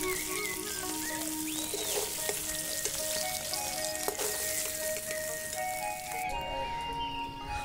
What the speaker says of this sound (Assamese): পনীৰ ফ্ৰাই হৈ গ'ল